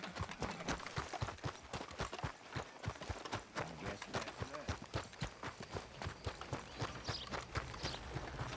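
Horse hooves clip-clop steadily in Red Dead Redemption 2, a continuous close walking rhythm of hoof strikes with game ambience and voices talking over them.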